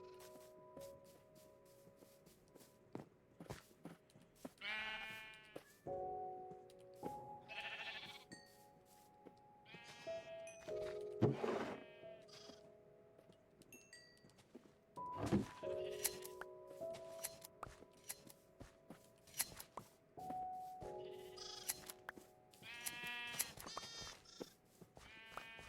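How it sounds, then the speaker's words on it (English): Sheep in the Minecraft video game bleat repeatedly in short stacked calls against light game ambience, several bleats overlapping at times, moderately near, with no talking. "We got plenty of time to go feed the sheep."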